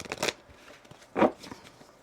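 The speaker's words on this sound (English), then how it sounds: "Let me shuffle this deck really," A tarot card deck being shuffled close by: two brisk riffling bursts about a second apart, separated by a quieter gap with faint background noise.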